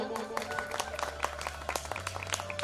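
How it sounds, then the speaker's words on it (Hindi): Audience applause for a revered Maharaj at a Narmada Mahapuran katha gathering, a quiet patter of many hands clapping steadily for a few seconds with a low hum underneath. "एक बार पूज्य महाराज जी के लिए जोरदार तालियां"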